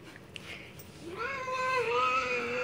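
An unhappy cat in a bathtub lets out a long, loud, drawn-out yowl that rises and wavers, close by, following a few faint splashes and knocks.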